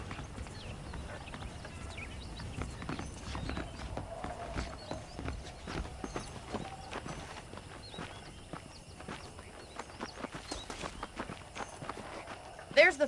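Horse hooves clip-clop steadily through a long walking stretch in the Western video game Red Dead Redemption, a rhythmic series of close footfalls with voices speaking over them and a louder burst near the end.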